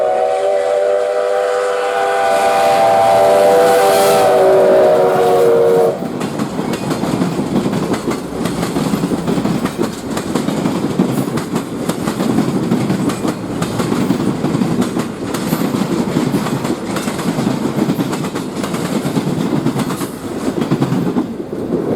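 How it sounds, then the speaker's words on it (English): US Sugar steam locomotive 148 sounds a long whistle, then rolls over switches at about 30 mph with loud, close rumbling and rhythmic clickety-clack of the train cars. "we get the train rolling over some switches at about 30 miles an hour"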